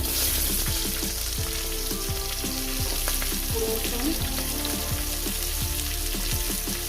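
Chopped onion fries in oil in a pan, a continuous close sizzle with repeated scraping stirs from a utensil and no voices, for a dish made with brinjal and tomato.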